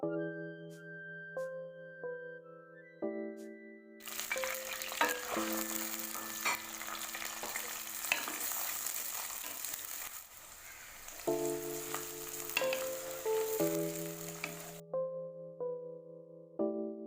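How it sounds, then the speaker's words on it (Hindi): Onions frying in a wok of hot oil give a steady, loud sizzle lasting about eleven seconds. Sustained musical tones play before and after it, and they continue faintly beneath the sizzle. "इसे अच्छी तरह गर्म होने देते हैं और उसके बाद उसमें डालते हैं जी प्याज"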